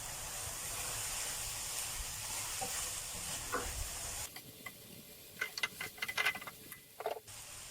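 Sliced pork sausage stir-frying with green sauce in a hot pan, a steady low sizzle giving way to scattered ticks and scrapes of stirring near the end.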